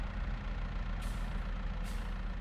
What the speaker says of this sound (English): This tractor really isn't made for reversing